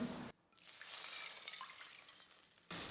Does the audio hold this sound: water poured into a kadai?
yes